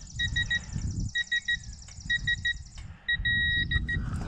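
A digital torque wrench beeps in repeated short bursts of tonal bleeps while tightening lug nuts on a Silverado in a driveway, the beeps slowing as torque builds, with ratcheting and mechanical noise between the beep groups.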